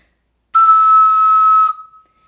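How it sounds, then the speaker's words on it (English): Plastic six-hole ocarina blown with a crisp tongued attack, one clean pure tone starting abruptly after a brief silence, held about a second, then fading, loud, close and solo. "you say "two" while you blow into your instrument"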